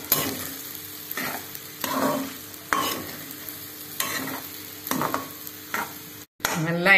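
Food frying in oil in a pan is stirred in repeated scraping strokes over a steady sizzle. The strokes come about once a second, close and clear, with a brief break near the end and no talk.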